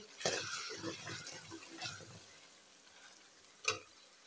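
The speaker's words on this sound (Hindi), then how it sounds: "1 से 2 मिनट हम इसकी भुनाई करेंगे।" Chicken and vegetables fry with garlic and ginger paste in a pan, giving a soft, close sizzle broken by stirring scrapes and a brief clatter near the end.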